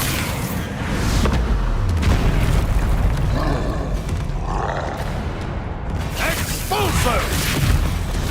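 A Bombarda spell blast in Hogwarts Legacy lands as a loud booming impact amid constant rumbling combat noise and grunts, followed by further magical bursts, with a voice calling out over it.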